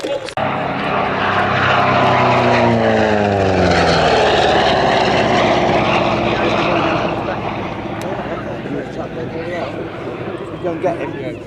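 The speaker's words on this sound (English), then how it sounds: "A nice low fast pass to arrive. Pulling up into a loop, the cloud base obviously allowing a looping display by the P-47." P-47 Thunderbolt warbird making a low fast pass at an airshow: a loud, close piston-engine and propeller roar with a falling Doppler pitch sweep as it passes, then receding, with people talking over it.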